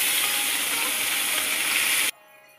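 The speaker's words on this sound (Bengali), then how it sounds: "তাওয়াটাকে অল্প তেল দিয়ে গরম করে নিয়েছি তেলটাকে, তারপরে মাছগুলোকে এমনি করে সাজিয়ে দিচ্ছি।" Katla fish pieces frying in a little oil on a hot tawa, a steady, close hiss and sizzle that cuts off abruptly near the end, leaving near silence.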